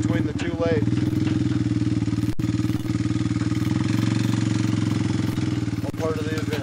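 A four-wheeler engine runs steadily nearby on an old ice road in Nunavut while towing a trailer, a constant mid-pitched drone with slight variations and no pauses.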